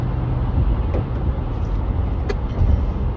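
Cars on a road produce a low, continuous traffic rumble close by, steady throughout the short stretch, with no voices.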